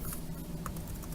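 Fingers type a business address into an online registration form on a computer keyboard, making a steady run of quick, soft, close clicks with no talking.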